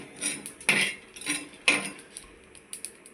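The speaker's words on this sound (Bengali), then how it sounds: "দেখ ভাজে নিচ্ছি সব মিলায়" A spoon clanks and scrapes against a pan while spices fry for a homemade mutton biryani, giving a few close, sharp metallic knocks with quiet pauses between them.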